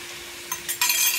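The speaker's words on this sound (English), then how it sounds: "And I'm going to pour it right down in this pan." Mixed beef and chicken broth is poured into a hot pan holding ground pork. It begins with a short splash, then after a brief pause swells into a steady, bright sizzling pour that lasts about half a second.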